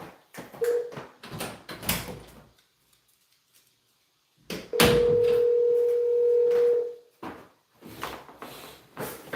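A phone call to a real estate lead rings through and goes to voicemail, heard as a steady telephone tone lasting about two seconds, with handling clicks and rustles before and after.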